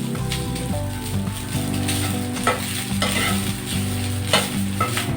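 Leftover cooked rice frying in a hot pan, a continuous close sizzle with repeated scraping strokes of a spatula stirring it, steady throughout with no talking.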